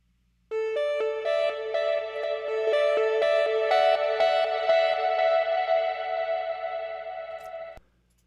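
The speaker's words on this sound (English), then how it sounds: "it's just that basic sine wave, the delay, tremolo, shave the low end off, and Valhalla shimmer" Synth melody built from a basic sine wave with delay, tremolo, the low end cut and shimmer reverb, a bright plucked line of repeating notes swelling into a washy sustained tail that stops abruptly.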